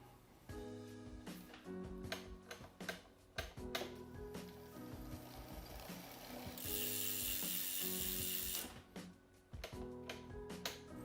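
A new Kinesis e-bike's rear wheel spins freely while its freehub ratchet ticks in a fast, steady clicking stream. The clicking is close and clear, with brief pauses and bursts of louder whirring.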